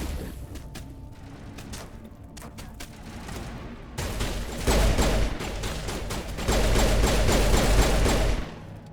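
Gunfire in the video game Mass Effect Legendary Edition on Eden Prime: rapid clattering bursts of weapon fire, lighter at first, then two loud, dense sustained volleys with booming low rumble.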